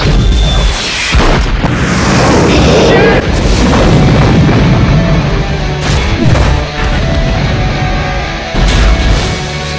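A building is blown apart in an action film trailer. Heavy booming blasts and crashing debris roll on almost without a break for about ten seconds, loud and dense, with several fresh impacts and short bits of voices under the noise.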